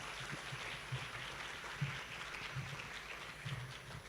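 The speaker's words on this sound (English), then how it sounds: "Once again, give some big applause for Miss Melvitan for opening remarks." Faint, distant applause from a school leaders' gathering audience in Jakarta after opening remarks, a soft continuous patter of clapping with a few slightly sharper bursts.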